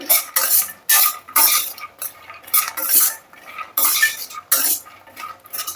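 Dry fruits are stirred while frying in ghee: repeated scraping strokes of a spoon against the pan in an uneven rhythm, with a faint sizzle underneath, close and fairly loud.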